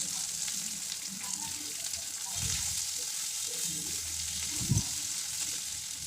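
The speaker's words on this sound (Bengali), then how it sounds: "এখন আমি পেঁয়াজগুলো দিয়ে দেব" Onions going into hot oil already holding whole cumin, whole garam masala and bay leaves for a thin egg-and-potato curry, giving a steady moderate sizzle with a couple of brief low stirring bumps and no talking.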